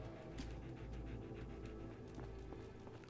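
A dog pants rapidly and rhythmically close by in Fallout 4, a steady breathy huffing that continues throughout, with faint footstep-like thumps underneath.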